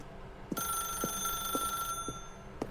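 Telephone ringing inside The Stanley Parable Ultra Deluxe video game: a repeating electronic ring with a steady high tone, several evenly spaced rings over a low background hum, moderately loud and with no talking.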